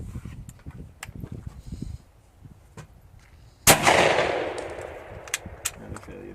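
A 20 gauge Hatfield semi-automatic shotgun with a light piston setup fires a single loud, close blast that rings off into a fading echo, preceded by a few sharp handling clicks and faint background noise.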